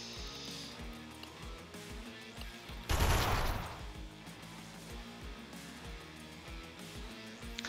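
Rapid bursts of video game gunfire with bullets flying, a dense rattling volley peaking loudly for about a second midway over steady game music and effects.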